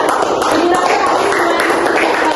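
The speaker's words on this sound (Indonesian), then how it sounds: "berikan tepuk tangan untuk penampilan Nabila" A classroom group claps for a student's microteaching presentation on promotional media, a short dense patter of many hands held at a steady level throughout.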